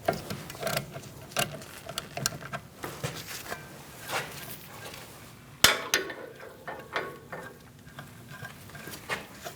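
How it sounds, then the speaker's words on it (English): A ratchet fitted with an 11mm socket loosens the brake hose bolt on the rear caliper of a 2016-2019 Chevrolet Cruze, giving irregular close clicks and taps, with one sharp metallic knock near the middle. "Using an 11mm socket, we're going to remove our bolt to remove our hose from the caliper."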